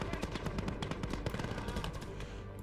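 Rapid machine-gun and rifle fire from the Gates of Hell: Talvisota battlefield game, dense overlapping bursts and individual shots crackling continuously, loud and close.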